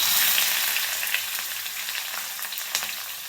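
Curry leaves and onion hit hot oil with peanuts in a pan while making poha, giving a steady, close, crackling sizzle throughout, with scattered sharper pops and spits over the continuous frying hiss.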